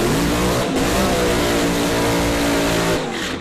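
A supercharged 1957 Chevy Pro Mod drag car revving at a drag race, a loud, harsh, sustained engine roar with a brief dip and a final fade, no talk.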